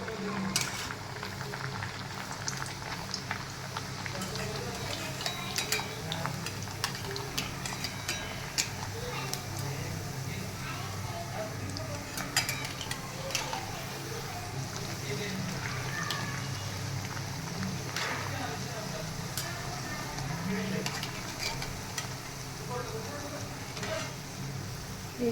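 Chola bhatura dough fries in oil in a kadai at home, a continuous bubbling sizzle with scattered sharp crackles and pops, close and steady throughout.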